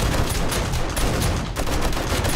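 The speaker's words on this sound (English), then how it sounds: "I was worried you guys were going to be able to hear the darts firing over the sound of the turrets." Automatic turrets in the zombie survival game 7 Days to Die fire in a dense, continuous rattle of rapid gunshots that fills the whole stretch at a steady, loud level.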